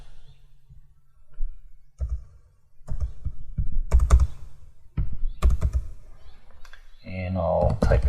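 Clicking keystrokes on a computer keyboard as a command is typed into a network terminal, arriving in short irregular bursts, close and fairly crisp, with a brief voice-like sound near the end.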